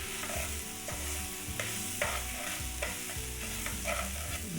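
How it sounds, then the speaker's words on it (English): Black pepper stir-fried in a pan, with a steady close sizzle broken by repeated scraping and clattering strokes of a utensil against the pan, and no talking. "and just stir fry it for another minute or two"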